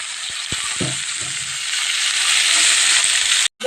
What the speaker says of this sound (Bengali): তেলটা গরম হয়ে গেছে, উচ্ছেটা দিয়ে দেব।